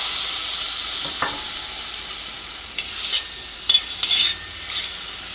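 Chopped tomatoes for tomato dosa hiss and crackle in a hot frying pan, with a steady sizzle broken by a few sharp scrapes and stirring knocks of a utensil, close up and free of voices.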